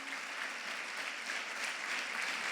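A church congregation claps steadily for Jesus during a Spanish-language sermon, the applause continuous and even, heard at a moderate distance without voices over it.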